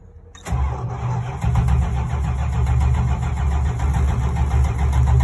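A 1977 Mopar 440 big-block engine cranks briefly on a cold start, catches and roars to life, then settles into a loud, lumpy idle that rumbles steadily close by.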